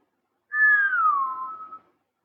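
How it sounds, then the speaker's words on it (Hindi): A single whistle blast, a steady tone sliding slightly downward and lasting just over a second, close and clear with no talk, blown as a lung exercise during breathing practice. "इसमें आप सीटी बजाओ"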